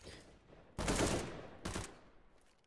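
Desert Eagle pistol shots in CS:GO on the Mirage map during a competitive esports match, two sharp loud bursts about a second apart, the first ringing out longer, over faint background game noise.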